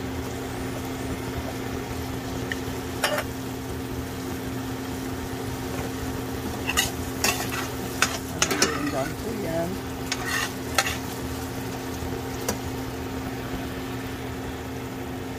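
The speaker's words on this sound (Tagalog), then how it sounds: "And now, I will add a small can of tomato sauce." Tomato sauce poured over sautéed garlic and onions for stuffed bell peppers, sizzling steadily in the pan with scattered scraping stirs and clinks near the middle, a constant low hum beneath.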